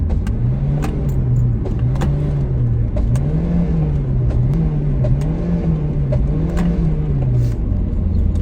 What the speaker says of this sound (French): La voiture tape des crises.